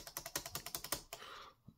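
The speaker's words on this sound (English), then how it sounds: "it's not too much thock, but there's definitely a decent thock to it for a non-mechanical keyboard" Fast typing on the built-in keyboard of a Lenovo ThinkPad X220 laptop, a non-mechanical board with raised keycaps, giving a dozen close, crisp keystrokes with a soft thocky bottom-out, then a brief pause and a couple of final taps.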